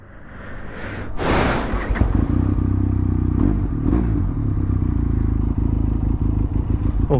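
A Benelli TRK520x touring motorcycle rumbles steadily nearby, with a loud handling clatter early on, then a sustained low engine drone throughout as the bike moves off.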